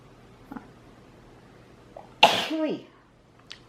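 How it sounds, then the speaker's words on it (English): A single sharp sneeze bursts out close by in a quiet room, with a short voiced tail and a couple of small breath noises around it. "I'm gonna sneeze."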